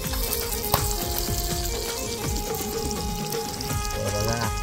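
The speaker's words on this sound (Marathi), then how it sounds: "बघताय चिवणी मस्त अशी गरम तेलावर आपली फ्राय होत आहे." Chivni fish frying in hot oil outdoors, a loud dense crackling sizzle with popping bursts throughout, close and continuous.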